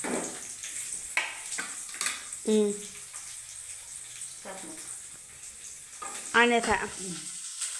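Onion sizzles and crackles steadily in hot oil with mustard seeds, with short bursts of talk and a few clinks over the frying.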